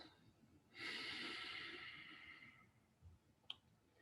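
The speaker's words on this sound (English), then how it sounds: "Now breathing out once" One long, breathy exhalation through the nose or mouth rushes out close and soft, fading gradually, followed by a quiet pause and a brief small click.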